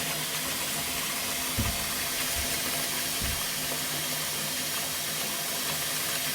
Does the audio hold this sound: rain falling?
no